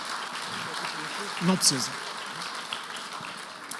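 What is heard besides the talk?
audience applause for the children assistants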